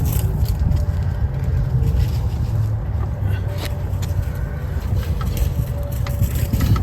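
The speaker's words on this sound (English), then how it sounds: "where we're at is the motor turns over" Triumph T100C chopper motorcycle engine being turned over, a loud, dense low rumbling churn with scraping texture, continuous and close for several seconds.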